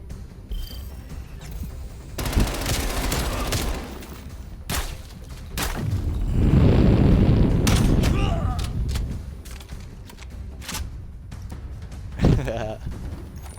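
Gunfire in Call of Duty Cold War, loud bursts and sharp shots through a multiplayer match, with a long heavy rumble in the middle and voices talking over the action.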